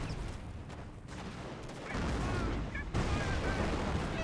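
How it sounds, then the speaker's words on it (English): Stun grenades going off in a Company of Heroes match: dense, continuous battlefield noise with booms and gunfire rising in intensity midway, a commentator speaking over it. "Stun grenades thrown."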